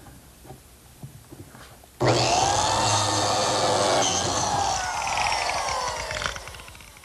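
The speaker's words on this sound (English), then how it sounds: "I'm going to use my biscuit cutter to make a slot at each opening." A biscuit cutter slots a wooden piece on a workbench: after quiet shop room tone, one loud, close, harsh whining cut starts abruptly and runs steadily for about four seconds before tapering away.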